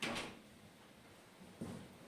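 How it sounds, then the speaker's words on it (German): An indoor door is pushed shut more firmly, giving a soft thud at the start and a second quieter knock near the end, with no talking over it. "ich schließe mal die Tür ein bisschen fester."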